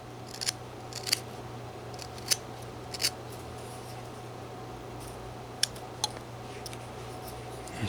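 A whittling knife carves a V-cut into wood, a series of small, crisp snicks and scrapes spaced irregularly over a low steady hum, close and quiet with no speech.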